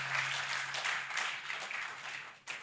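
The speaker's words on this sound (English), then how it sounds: "Let's appreciate ourselves, please. Let's clap for ourselves." A conference audience applauds itself at the close of the final day, a steady wash of many hands clapping that fades slightly near the end, with no voices standing out.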